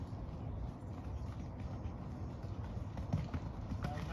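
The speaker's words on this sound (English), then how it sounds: "Let's have canter when you're ready." Horse cantering during an eventing training session, a steady rolling drum of hoofbeats thudding under low outdoor rumble, with a few sharper hits near the end.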